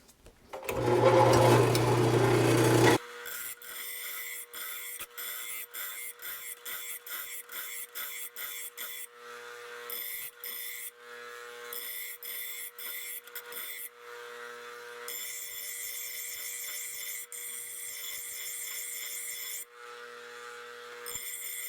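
Lawn tractor mower blades from a John Deere D105 are sharpened: a loud burst of grinding gives way to a long series of rapid, rhythmic rasping strokes, sustained and close.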